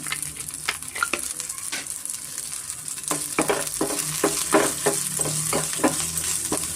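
A tempering fries in groundnut oil over a medium flame for a spinach and moong dal dish. A steady close sizzle runs throughout, broken by repeated scraping stirs in the pan, with no voices.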